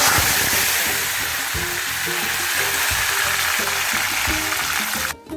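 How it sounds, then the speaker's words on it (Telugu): Bitter gourd pieces and curry leaves fry steadily in hot oil, a loud continuous sizzle and crackle with occasional stirring scrapes, ending in a brief clatter. "కరివేపాకు దారుగా వేగిపోయినాయండి"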